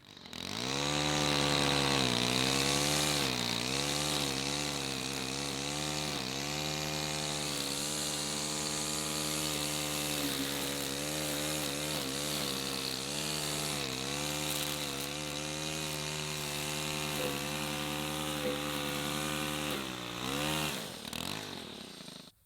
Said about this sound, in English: I'm going to have to weed eat around those stakes.